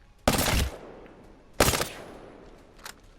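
Two loud bursts of submachine-gun fire from Apex Legends, each a short rapid string of shots about a third of a second long, spaced about a second apart, followed by a faint brief click.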